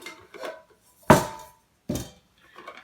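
Metal lids from a Stanley camping cook set clink and clatter together, with several short, sharp knocks separated by brief pauses.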